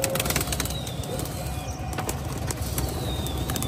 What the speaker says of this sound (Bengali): এখানে গিরিবাজ সহ বিভিন্ন জাতের কবুতরই আপনারা দেখতে পাবেন